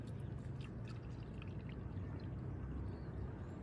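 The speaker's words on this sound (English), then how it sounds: "Now, pour the water to the brim." Water poured into a spinning-demonstration apparatus, filled to the brim, makes a steady, continuous pouring and trickling wash with faint drips, heard alone and close.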